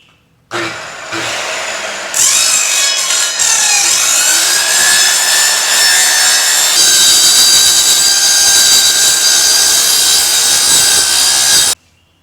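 A power tool cuts through wood for a simple homemade chicken feeder, a loud, steady whining buzz that starts abruptly, rises in pitch as the blade bites, then holds continuously for about ten seconds before stopping sharply.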